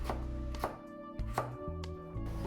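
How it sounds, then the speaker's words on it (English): A kitchen knife chops carrot into small dice on a cutting board for a Japanese vegetable curry, a handful of sharp, evenly spaced taps against a faint steady background. "Cut another half in lengthwise, then chop them into small dice."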